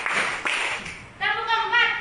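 A group claps out a short rhythmic pattern of sharp, broadband claps, followed by voices chanting together in a sing-song manner.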